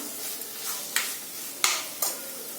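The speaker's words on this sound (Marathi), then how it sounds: "हे किसमिस टाकायचं किसमिस टाकून थोडा फिरवून घ्यायचं" Raisins are stirred into carrot and beetroot halwa in a pan, giving soft scraping and sizzling with a few sharper spoon knocks against the pan, close and clear, with no talk.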